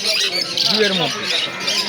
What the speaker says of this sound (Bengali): এখানে লাভবার্ড আছে ভালো কালারের সব পাখি রয়েছে